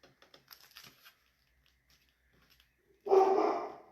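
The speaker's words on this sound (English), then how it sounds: "He's barking at something." Faint clicks and taps, then a single loud bark from a dog close by near the end.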